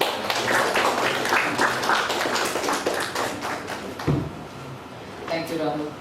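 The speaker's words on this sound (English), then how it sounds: "Can we have a round of applause?" Members at a chartered accountants' branch meeting give a round of applause, a scattered patter of clapping that fades after a few seconds, followed by a lone voice speaking.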